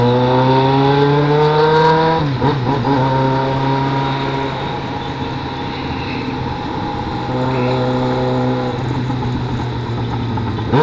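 A Yamaha XJ6 motorcycle engine revs up with a rising whine, drops sharply, then holds a steady harmonic drone before climbing again, loud and close with faint voices underneath.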